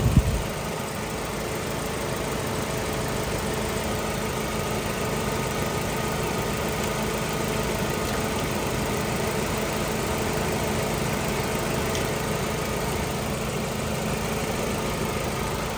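A 2019 Maruti WagonR ZXi petrol car engine idles in a steady, even hum with a faint vibration, close by and unchanging throughout, with no voices.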